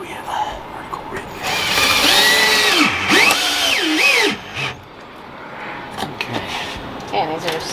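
A power drill drives long self-tapping sheet metal screws into a van's rib, a loud whining, revving burst lasting a couple of seconds, followed by quieter handling noises and a voice speaking.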